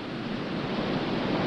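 Ocean surf and swirling white water at a point break during a surfing contest, a steady loud wash of broken waves with wind buffeting the microphone and no voices.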